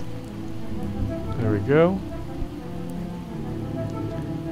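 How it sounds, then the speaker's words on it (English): Steady rain from the survival game Project Zomboid patters on as a constant backdrop, with a short spoken phrase rising over it midway. "Alright, we gotta get out of this rain."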